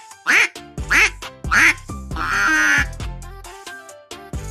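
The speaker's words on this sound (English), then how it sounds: "These lovely animals swim in the pond and say quack." A duck on a farm quacks several times in short, loud, nasal bursts, then one longer drawn-out call, close by with nothing else heard.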